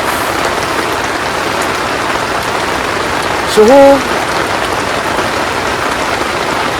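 Heavy rain pours steadily at a hillside campsite on Bukit Purnama, Puncak, a dense, loud, unbroken hiss that fills the whole moment, with one short spoken word partway through.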